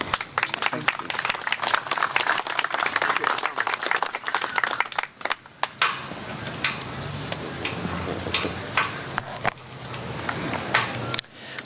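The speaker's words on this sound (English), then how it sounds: "Please offer another round of applause for Korean War veteran Peter Harry Garan." A crowd at an outdoor Memorial Day ceremony and parade in Dunkirk, New York applauds in a sustained burst of dense clapping that gradually thins toward the end, while a voice speaks over the loudspeaker.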